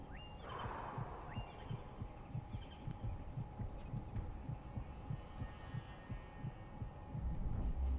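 A steady heartbeat thumps in the hunting video game Cabela's Dangerous Hunts, low and regular at roughly one beat per half second. It continues for several seconds under quiet game ambience, with a few faint higher tones and a louder thump near the end.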